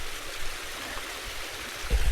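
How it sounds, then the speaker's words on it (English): A small mountain stream in Scotland flows steadily nearby, a constant broadband rush of water that stays even throughout and has a few heavier splashes near the end, with no voices. "there's a couple of streams, a bigger stream there"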